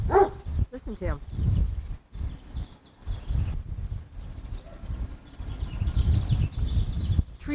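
A dog barks repeatedly in the background of an outdoor backyard scene, the barks faint and intermittent beneath steady conversation and ambient noise.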